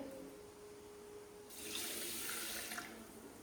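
Water runs from a bowl into a pot of sugar for gulab jamun syrup for a little over a second, a steady splashing pour following a quiet stretch with faint background hum.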